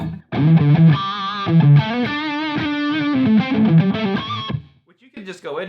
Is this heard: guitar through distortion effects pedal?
yes